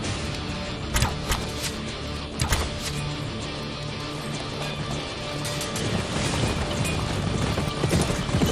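Horses' hooves clip-clop over a noisy outdoor battlefield scene in a historical drama, scattered sharp strikes mixed with rumbling background movement and wind.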